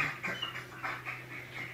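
A small dog pants in quick, rhythmic breaths with faint whimpers mixed in, close and fairly quiet, alone without speech.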